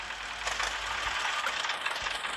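A New Holland tractor engine runs steadily in a tractor simulator video game, a continuous broadband rumble with slight fluctuations and no talk.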